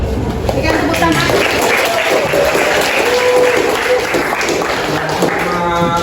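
A room full of people applauds to welcome a physics teacher at a high school session, with continuous, loud, dense clapping throughout and faint voices mixed in.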